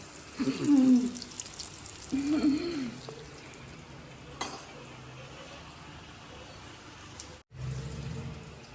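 Lentil fritters (dal vada) sizzle in hot oil during home cooking, a low, steady crackling hiss that runs through the whole stretch, with a faint hum-like voice near the start.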